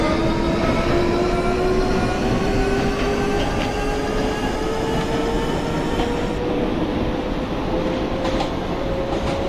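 An F subway train in the openBVE simulator rolls along steadily, a rising motor whine over continuous loud rumble and faint clickety-clack, with no talk.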